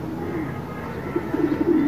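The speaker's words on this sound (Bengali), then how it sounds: "জিরো পরের কবুতর" Young racing pigeon squabs coo softly in a soft, low, steady murmur, with a few slightly louder coos toward the end.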